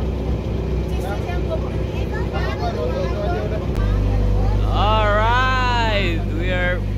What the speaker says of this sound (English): Oh, ada boat dari bawah.